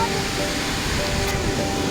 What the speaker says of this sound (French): Alors Madame Chat, elle est jolie cette cascade?